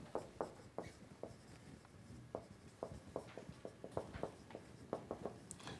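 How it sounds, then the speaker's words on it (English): During a calculus lecture, quiet tapping strokes of writing on the board come in an irregular rhythm of short bursts, with no talking. "so let me write this one"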